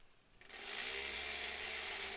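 A steady mechanical whir starts after a brief quiet moment and runs continuously, like a sewing machine stitching at a constant speed.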